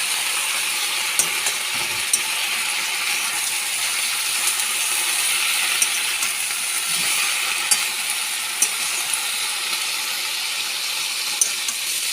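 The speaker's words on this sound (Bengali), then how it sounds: "ভালো করে নাড়িয়ে নেবো" Spinach tossed with green chilli sizzles steadily in a pan, a continuous bright frying hiss with occasional faint scrapes and clicks from stirring, close and even throughout.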